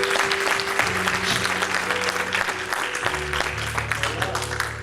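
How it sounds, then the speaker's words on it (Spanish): A church congregation claps together during a sermon service, a full, steady burst of applause over held keyboard chords, with voices faintly mixed in. "Dale ese aplauso en nombre del Señor."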